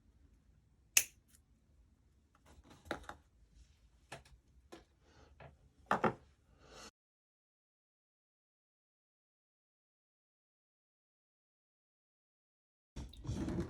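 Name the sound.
snipping jewellery wire with cutters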